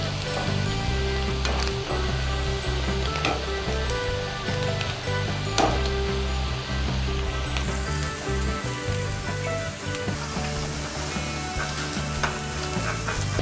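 Gobi 65 cauliflower pieces deep frying in hot oil, a dense continuous sizzle and bubbling, close and steady, with occasional stirring noises and no talk.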